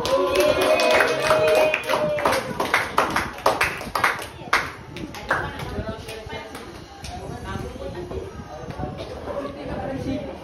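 Pupils clapping together in a classroom during a visual arts lesson, a loud burst of scattered hand claps that thins out and fades, mixed with chatter and voices throughout.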